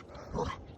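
A single short dog bark at moderate distance during a pack hike, a brief gruff woof over quiet outdoor background.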